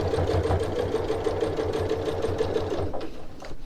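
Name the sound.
sewing machine stitching reinforcing stitches on a strap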